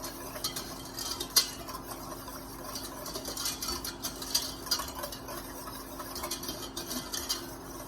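A spoon stirring a thinning mac and cheese milk sauce in a pot on the stove, with soft continuous swishing and scattered light metallic clinks and taps against the pot, quiet and close, with no voices.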